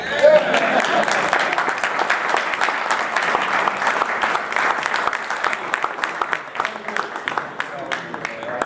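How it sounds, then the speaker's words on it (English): Audience applause at a comic con fan panel, a dense wash of clapping that runs steadily throughout, with voices faintly mixed in underneath. "You were going to applaud?"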